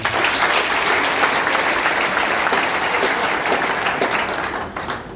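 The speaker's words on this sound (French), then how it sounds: "Ces applaudissements qui me paraissent sincères et non hypocrites" Loud, sustained applause from a university audience at a rector's speech, many hands clapping densely and evenly before easing slightly at the end.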